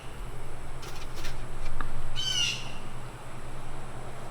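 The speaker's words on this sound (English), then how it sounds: "You hear another bird?" A bird calls outdoors with a single short, thin, high-pitched cry, faint and somewhat distant over a low steady background hum.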